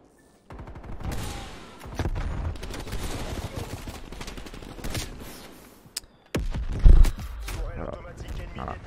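Bursts of AUG rifle fire crackle through a video game firefight with a voice speaking French over them, a short gap, then a final loud volley.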